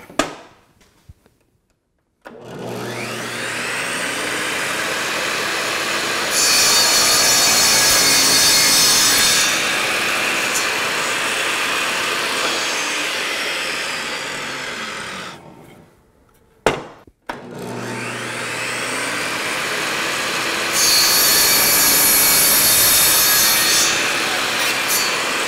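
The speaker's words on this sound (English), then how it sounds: "So I'm going to go ahead and make the cut." A hand saw cuts through wood for a mortise and tenon shop stool in long continuous back-and-forth strokes, loud and close, pausing briefly before a second run of sawing.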